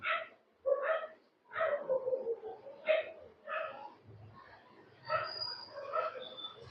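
Dogs barking in a series of sharp, fairly close barks and yips, roughly one every second, with brief pauses between them.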